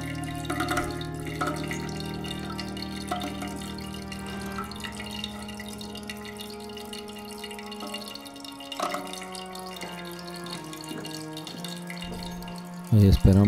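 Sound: toilet tank refilling with water after valve replacement

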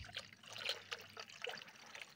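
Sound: water filling a 4-litre paint bucket

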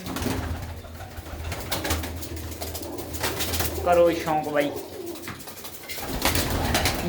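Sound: pigeons cooing

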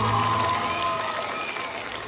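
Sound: audience applause for the heroes

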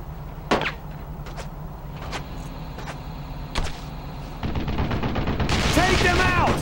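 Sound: machine gun fire in the video game Brothers in Arms: Road to Hill 30

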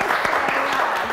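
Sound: class applauding Jiménez

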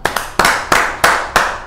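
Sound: applause as cricket players return after rain delay

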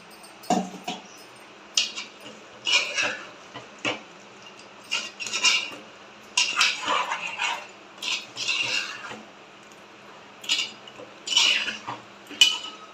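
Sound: water swirled in mixer jar and poured into curry pot

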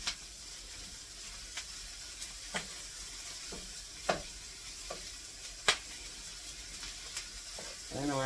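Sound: food frying and popping in a pan while being stirred

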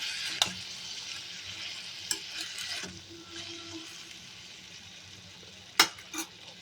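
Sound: frying beetroot and tomato pieces in a pan

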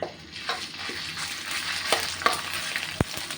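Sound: curry paste frying in hot oil

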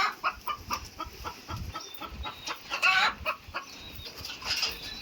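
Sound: chickens clucking

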